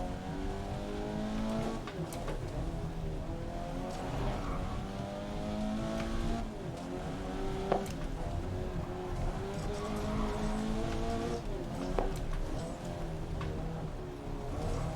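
A stock car engine drones and revs continuously in the GRID 2019 racing game, climbing and shifting pitch with each gear change, with occasional tire squeal and thumps under a steady roar.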